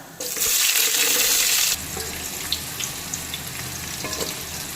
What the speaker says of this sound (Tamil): இப்போ வெந்தயம் பொரிஞ்சதும் இது கூட வெங்காயம் சேர்த்துக்கலாம்